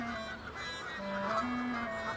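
Geese honking in a few drawn-out, nasal calls over steady outdoor background noise, fairly distant and moderate in level, with no one speaking.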